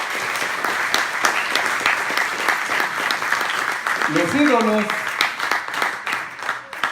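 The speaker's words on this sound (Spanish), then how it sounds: "Dile palmas al Señor." Church congregation clapping during a Bible study on Exodus, steady massed applause throughout with a voice speaking over it partway through.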